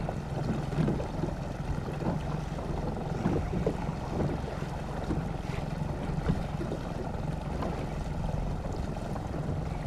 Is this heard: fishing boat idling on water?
yes